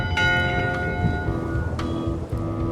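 Two strikes of a ship's bell on deck in Return to Monkey Island, each a bright ringing tone that hangs over a low background rumble of sea and wind.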